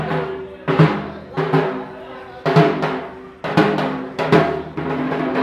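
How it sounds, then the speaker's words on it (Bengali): Loud dhak drum beats come in strong bursts with short gaps between them during Kali Puja at a railway station, mixed with crowd noise and a bright ringing texture. "এখানে ঢাক বাজছে দেখুন।"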